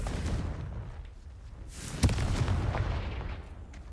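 Confringo explosive spell cast in Hogwarts Legacy on PC, a single sharp blast near the middle over a rumbling backdrop of game sound, with no voice present.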